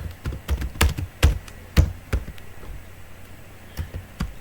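Fingers type on a computer keyboard in a quick, uneven burst of sharp keystrokes and clicks, loud and close, then thin out to a few scattered taps.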